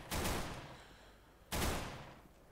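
Two sharp, loud pistol reports from a CZ in Counter-Strike on the Dust 2 map, about a second and a half apart, each trailing off in a reverberant tail.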